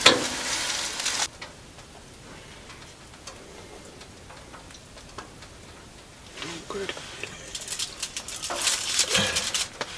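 Perch fries in a pan with a loud, bright sizzle that drops to a quieter hiss after the first second, then swells again over the last few seconds, with faint voices in the background.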